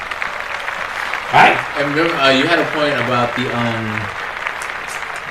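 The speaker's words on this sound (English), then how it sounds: "Let's clap that up." Applause from a podcast audience rises as a steady background wash, with someone talking over it through most of the stretch.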